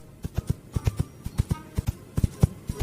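Stones knocked together to imitate a galloping horse for film sound effects give quick groups of sharp, hollow clip-clop taps in a running rhythm, close and fairly quiet, with no other sound.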